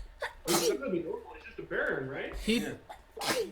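During a tabletop Dungeons & Dragons session, a person sneezes sharply and close by amid ongoing conversation, with another short sneezy burst near the end.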